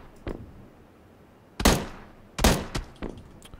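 Video game gunfire, a faint distant pop followed by two loud sharp shots a moment apart and a few quieter trailing cracks, with no voices.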